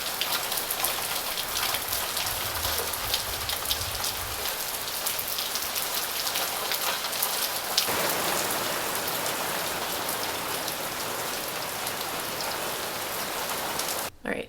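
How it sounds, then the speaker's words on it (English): Steady rain falls outside, a dense, continuous hiss of drops on surfaces that keeps an even loudness for the whole stretch and ends abruptly at the close. "it is in fact raining"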